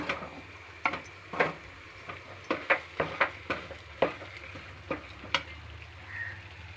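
Chili powder and chicken curry masala frying in oil, a soft steady sizzle broken by repeated spoon scrapes and clicks against the pan, close and fairly quiet, no voices.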